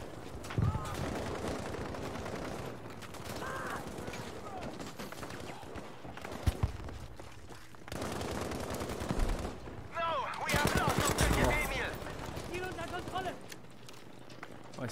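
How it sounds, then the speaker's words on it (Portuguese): Rapid bursts of gunfire from the online shooter Battlefield V during an open beta match, repeated volleys and distant shots spread across the scene under a player talking excitedly. "De onde que eu tô levando tiro"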